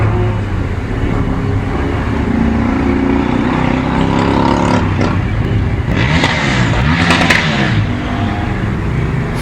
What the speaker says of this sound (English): Wow, is that another motorcycle?